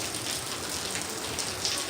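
Heavy monsoon rain pours down in Kozhikode with some wind, a steady dense hiss that stays even throughout, with no voices.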